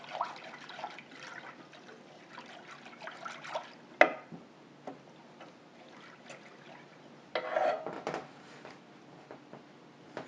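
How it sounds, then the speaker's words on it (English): Sugar and water whisked in a pot on the stove for a lemon-lime meringue pie filling, a steady soft scraping and sloshing with a sharper clink and a louder stirring burst later, close and without talk. "I'm just going to keep whisking this until it comes to a bubble and the sugar dissolves."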